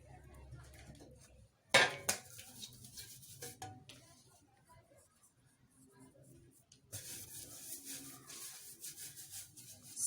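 A plate handled on a counter while making homemade pizza, a sharp clatter followed by scraping and rubbing, then a stretch of steady brushing and handling noise.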